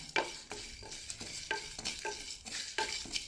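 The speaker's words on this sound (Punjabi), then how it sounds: "ਮਸਾਲਾ ਸਾਡਾ ਹਲਕਾ ਜਿਹਾ ਰੋਸਟ ਹੋ ਗਿਆ" Spice masala being dry-roasted in a pan for potato pickle, a utensil scraping and tossing the dry spices in quick rhythmic strokes, close but soft, with light rustling between strokes and no voices.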